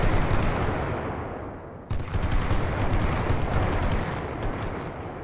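Dense World War I gunfire from the video game The Great War: Western Front, with rapid rifle and machine gun bursts crackling continuously, loud and close, and a brief lull midway before the firing resumes.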